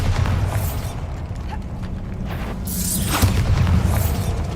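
The Bombarda explosion spell from the video game Hogwarts Legacy: a loud, sustained booming blast with crackling, shattering debris, and a second swell of noise building toward the end, with no voices.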